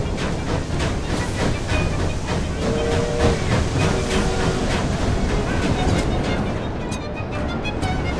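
A train rolls steadily with a continuous hiss of steam and rattling carriage noise, loud and unbroken throughout, in the Victorian London setting of the video game Assassin's Creed Syndicate.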